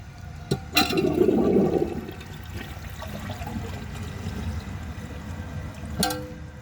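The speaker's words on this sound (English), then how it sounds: "give it one more flush" A 1930 Eljer Sanus toilet flushes with a loud, close whoosh in the first couple of seconds, then settles into a steady refill trickle, with sharp clunks near the start and end.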